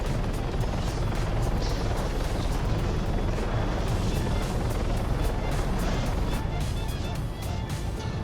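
A helicopter in Arma 3 spinning out of control after a tail rotor failure, giving a steady, loud rotor and engine roar that runs continuously throughout.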